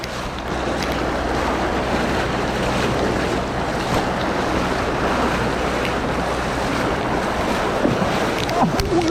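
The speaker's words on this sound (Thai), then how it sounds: "มันเป็นคลื่นไง" Floodwater waves wash and churn steadily during heavy flooding in Chaiyaphum, Thailand, a broad continuous rushing surge close by with wind buffeting the microphone throughout, no voices.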